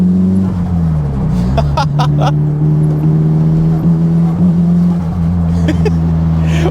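A Nissan S15 Silvia engine holds a loud, close, steady drone, its pitch wavering slightly, with a few brief sharp clicks near the start and the end.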